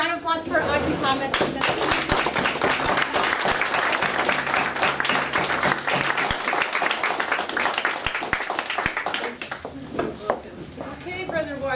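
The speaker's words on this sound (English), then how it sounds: "a round of applause for Audrey Thomas" Sustained audience applause for a panelist at a labor-organizing panel, dense steady clapping from a sizable crowd filling the room for about ten seconds before thinning out, with a few voices faintly underneath.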